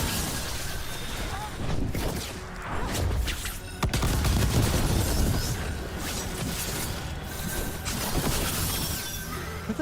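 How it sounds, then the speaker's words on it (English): Mortar fire and explosions in a Dragon Age: The Veilguard battle, with heavy thuds and rumbling booms that run nearly continuously. The blasts are loudest around the middle and sit under a dense, noisy combat mix. "They've got mortars."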